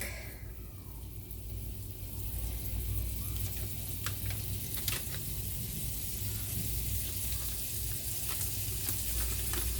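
Half a stick of real butter melting in a hot pan gives off a steady, loud sizzle with crackling pops, continuous throughout, with no talking.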